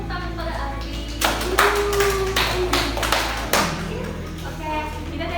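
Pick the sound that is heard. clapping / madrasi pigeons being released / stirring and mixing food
clapping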